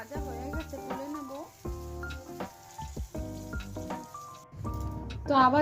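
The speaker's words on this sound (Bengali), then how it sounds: "তো বেগুনটা ভেজে নেব।" Brinjal slices frying in white cooking oil in a home kitchen, a steady close sizzle with bursts of crackling and occasional stirring, no talking.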